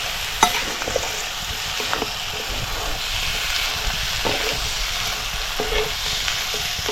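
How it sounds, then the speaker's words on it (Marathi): Dried shrimp (sukat) are stir-fried in a spice masala, giving a steady sizzle with occasional scraping stirs and clicks of a spoon against the pan, close and without talk. "आता आपल्याला ह्याच्यात ही सुकट टाकायची. हे बघा आणि चांगली ही सुकट अशी परतून घ्यायची मसाल्यात."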